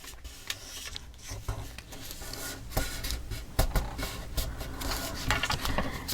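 Folded paper being burnished flat by hand for a mini album's inside front cover, giving soft repeated rubbing and rasping strokes at close range with small taps, no talk.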